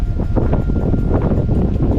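Cold wind on top of a hilltop watch tower at Paithalmala, with drizzle and mist, buffets the microphone in a steady, roaring rush, loud and close, with no voices.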